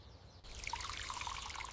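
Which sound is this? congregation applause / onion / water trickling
water trickling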